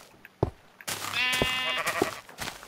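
Minecraft sheep bleating loudly and close by, one long wavering bleat after a few soft clicks and thumps, with no voices.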